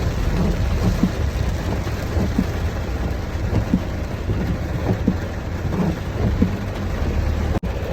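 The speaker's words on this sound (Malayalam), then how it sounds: "എട്ടനാട്ടിൽ നല്ല മഴ" Heavy rain pours down on a town street during a drive, a dense, steady, loud roar that continues without a break.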